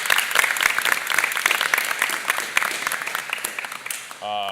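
An audience at a school board of education meeting gives a round of applause for a teacher, crisp, close, busy clapping lasting about four seconds before it cuts off into a brief voice.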